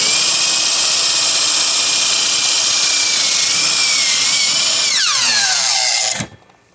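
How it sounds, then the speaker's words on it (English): Power drill boring rivet holes in the metal of an old lawn edger, a loud steady whine running nearly six seconds before spinning down and cutting off. "So now we're just drilling holes a little bit."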